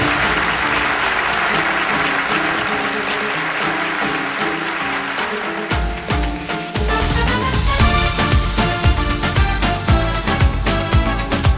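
A studio audience applauds warmly and loudly for a ten-year-old girl singer as she is welcomed onstage, the steady clapping mixed with swelling music that takes over partway through.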